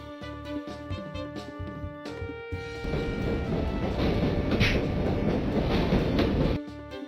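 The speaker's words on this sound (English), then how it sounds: "The train clattered off into the flickering distance" A train in The Shivah video game clatters off, its rumbling, clacking noise swelling loud and steady over a game music bed before cutting off near the end.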